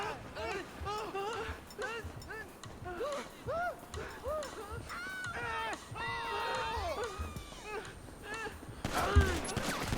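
Scattered gunshots in the PC version of GTA 5, several sharp bursts spread through the scene under near-constant excited talk, with a louder burst near the end.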